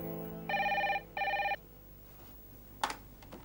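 A telephone bell rings two clear bursts in a row, each about half a second, followed by quiet room tone and a brief click, with no talking.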